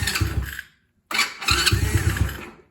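A Chinese ATV engine cranks briefly and falls silent for a moment, then fires up loud and close into a rough, steady running note, with no talk over it.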